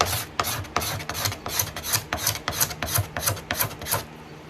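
A sharpened card scraper rasps across the wood of a guitar rosette in about a dozen quick, evenly spaced strokes, close and crisp, with no talk.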